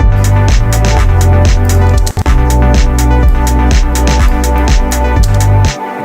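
A loud retro synth arpeggio driven by Ableton's ARP MIDI effect in a Balearic chill house production, rapid evenly pulsing notes over a heavy sustained bass, with one brief dropout midway before it stops abruptly at the end.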